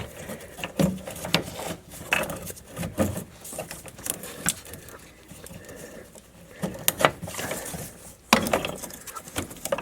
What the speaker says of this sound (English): then you should be able to slide the fuel filter off out of the bracket.